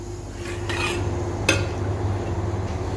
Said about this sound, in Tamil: இப்போ இந்த ப்ரெஷர் பேனை நம்ம ஓப்பன் பண்ணி பார்க்கலாம்